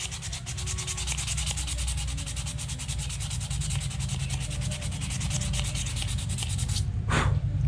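Steady, continuous rasping scrape of 180 grit sandpaper worked back and forth over a metal engine part during polishing, close and even in level, with a brief change in texture near the end.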